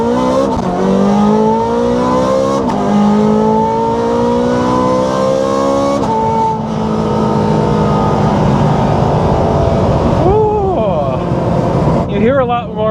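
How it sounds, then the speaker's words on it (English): A Lamborghini Gallardo Superleggera or Ferrari 430 Scuderia engine accelerating hard, loud and close, its pitch climbing through several gear shifts over steady road noise. "You hear the engine a lot more"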